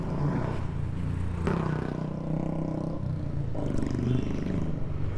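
A Bajaj Pulsar motorcycle engine hums steadily while riding under light acceleration in fifth gear at city speed, a continuous close drone with wind noise and no talking.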